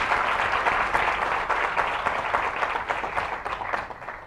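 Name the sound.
audience clapping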